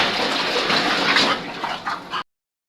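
Water splashes and sloshes in a basin as a dog is bathed, a steady busy splashing that thins into a few bursts before cutting off abruptly, with no voices.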